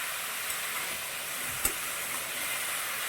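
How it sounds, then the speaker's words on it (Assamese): Chicken pieces, vegetables and masala fry together in a pan for an Assamese-style papaya chicken curry, giving a steady, fairly quiet sizzling hiss throughout with one brief stir or clatter near the middle. "আৰু এতিয়া মই এইখিনি একেলগে অলপমান সময় ভাজিম"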